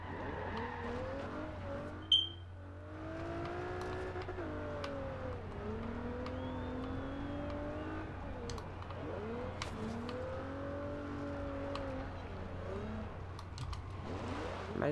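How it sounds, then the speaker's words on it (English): A boosted V8 engine in a Forza Horizon 2 car build revs up and down in repeated pitch sweeps over a low steady drone. The engine is moderately loud, with a brief sharp click near the start. "I really like how these engines sound."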